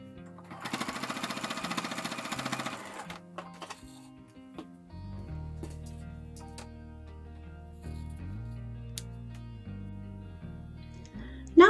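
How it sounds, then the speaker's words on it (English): Sewing machine stitching the fabric edges of a microwave bowl cozy, a rapid mechanical stitching burst of about two seconds, followed by quieter motor hum and intermittent clicks and tones. "then I'll turn the fabric the other way and I will sew and clip the remaining edges."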